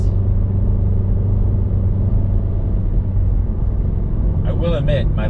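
A manual car coasts downhill in neutral through rush-hour traffic in LA, giving a steady low rumble of road and cabin noise, with a brief voice near the end.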